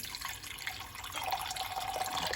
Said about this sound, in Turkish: Şöyle suyumu da ekliyorum.